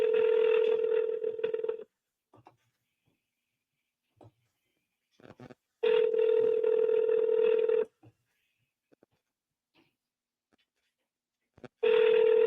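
A phone call is placed: three separate bursts of steady tone, each about two seconds long with quiet gaps between them, fairly loud and with no talking over them.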